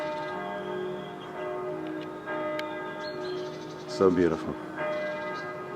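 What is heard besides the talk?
church bells chiming at 10 a.m. in Bergen, Norway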